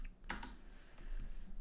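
An IP address is typed on a computer keyboard during a MikoPBX setup in VirtualBox, a few faint, quick key clicks close by over a quiet hum.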